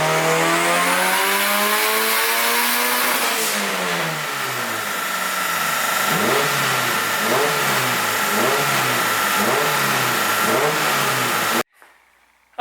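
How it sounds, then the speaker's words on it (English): A tuned Honda engine making around 300 horsepower revs up through a full pull, rising steadily from low to high rpm, loud and close, with rhythmic pulsing near the top before cutting off abruptly. "I might make one more pull at around 300 horsepower just to make sure it's good for him to drive in the meantime"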